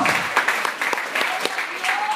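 A church congregation claps during a sermon, a short burst of steady applause with a few louder individual claps, moderately near.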